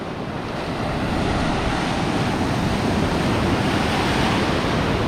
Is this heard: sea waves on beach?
yes